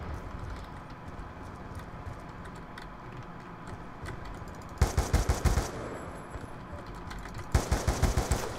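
Shotgun fire in Black Ops 2 comes as two short bursts of rapid booming shots over steady game background noise, loud and close.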